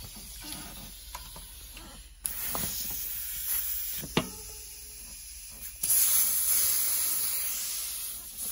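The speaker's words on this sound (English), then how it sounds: "now what we're going to do is air this up, and the compressor might kick on" An air compressor inflates a tubeless bike tire repaired with a Muc-Off puncture plug, giving a steady close hiss of airflow. The hiss grows louder after a couple of seconds, a brief click comes midway, and the air gets stronger again near the end. No talk.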